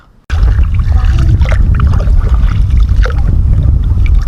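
A small boat chugs across the water, its engine rumbling loud and close along with splashing and rushing wind noise.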